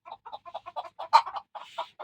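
Chickens cluck in a rapid run of short, close bursts with one sharper squawk midway, no talk over them.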